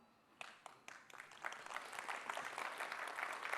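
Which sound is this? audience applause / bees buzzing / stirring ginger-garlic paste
audience applause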